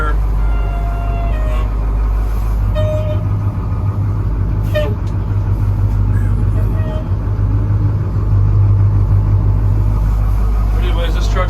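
A 1985 Ford C8000 4x4 truck with a DD 8.2 diesel engine idles loud and close, a steady low rumble continuing throughout while people talk over it and faint beeps sound now and then.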